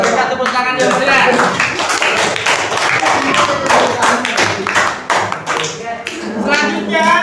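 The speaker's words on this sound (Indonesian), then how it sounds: "Berikan tepuk tangan yang meriah." Classroom audience clapping in a dense, steady burst of many hands, close and loud, with voices mixed in throughout.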